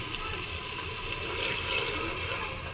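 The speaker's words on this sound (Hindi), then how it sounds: "उसके बाद जो बाफले वाला पानी था वो ही मैं उसमें डाल रही हूँ।" Leftover water from boiling bafla poured into a pot of dal, a steady continuous splashing pour running throughout without talk.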